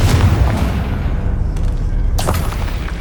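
The Confringo explosive curse in Hogwarts Legacy goes off as a heavy, loud boom up front, followed by rumbling blast noise and a second sharp burst about two seconds later, close and dense.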